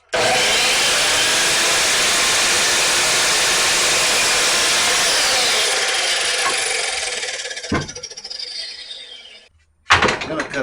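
A newly bought miter saw slices through a board of wood for a Christmas manger build, a loud, close whining roar that holds steady for several seconds, then winds down with a clunk before a brief restart of motor noise.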